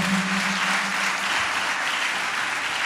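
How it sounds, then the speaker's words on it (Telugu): A church congregation at a Sunday worship service claps loudly and steadily, a dense, sustained burst of applause with no pause throughout. "చప్పట్లు కొట్టండి గట్టిగా"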